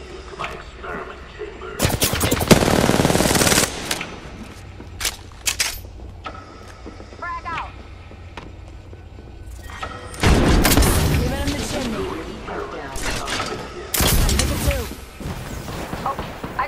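Gunfire in the video game Apex Legends: loud bursts of automatic fire and booming impacts come in separate clusters with quieter gaps between them, heavy and close, with occasional game sounds between the volleys.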